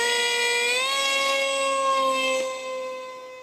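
An iFlight XING 2207 2750kV brushless motor on 3S spins a two-blade Gemfan Flash 6042 prop, a loud sustained whine with steady harmonic tones that step up in pitch early on, then ease slightly toward the end.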